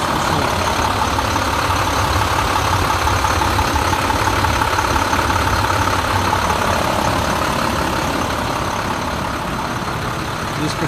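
An International CXT 7300 truck's DT466 inline six-cylinder diesel engine idles steadily, a low continuous rumble that stays even and close the whole time, with no voices.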